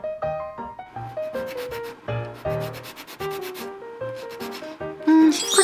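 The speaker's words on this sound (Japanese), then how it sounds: "紙やすりみたいにザラザラしないので、鉄やすりとっても使いやすいです。" Metal file rasping across the surface of a plastic model kit in repeated close strokes, with tonal background music running alongside.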